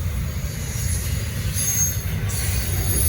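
A Norfolk Southern freight train led by Dash 9 locomotives picks up speed, a loud continuous rumble of rolling cars with high wheel squeal ringing above, close by and without pause.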